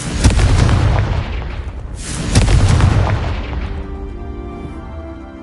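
Confringo blasting spells in Hogwarts Legacy go off twice, each a loud, close boom that rolls into a long rumbling decay and fades into the quiet.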